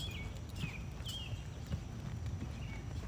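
Horse hooves striking an arena surface at a rising trot during a flatwork session, a steady two-beat clip-clop at close range with faint high bird chirps in the background and no talk.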